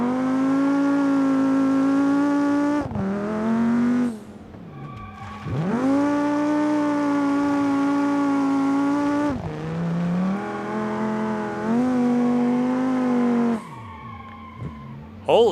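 An all-wheel drive car in BeamNG.drive revs hard through several gear pulls, the engine whine rising and dropping between shifts, loud and close, with a brief tire squeal near the end.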